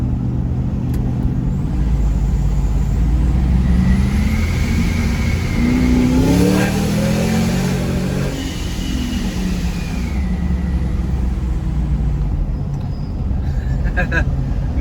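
A supercharged Hemi pickup truck in a quiet wooded neighborhood rumbles loudly at close range, then revs up and falls back in one long sweep before settling into a deep idle.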